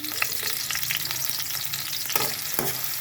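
Garlic frying in a pan while being stirred, for a mung bean dish with smoked fish: a steady close sizzle with scraping stir strokes and a few sharp clacks.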